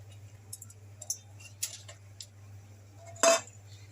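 Rice being stirred in a cooking pot with ghee and a seasoning mix: scattered metal spoon clinks and scrapes against the pot over a low steady hum, ending in a louder scraping clatter.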